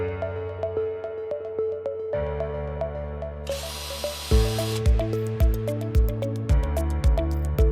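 A power drill fitted with a Phillips driver bit tightens screws while a base cabinet is assembled, motor whine rising in short bursts with rhythmic clicking ratchet pulses, close and loud.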